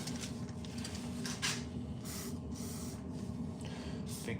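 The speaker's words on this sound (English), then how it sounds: "What I do need to do actually is spray a bit of lube in there." WD-40 lubricant spraying in one steady, continuous hiss lasting several seconds, close by and fairly loud, with no talking.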